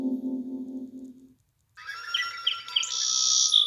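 Sparrow chirping as a storybook sound effect, a quick run of bright high tweets after a short tonal sound and a moment of silence.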